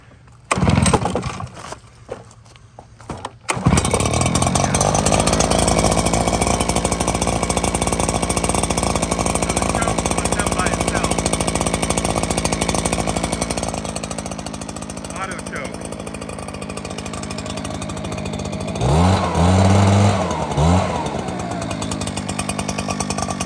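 A cold Echo PB9010T two-stroke backpack leaf blower is pull-started with a few rope tugs, then fires up and runs loudly up close, dipping and bogging partway through while someone talks over it.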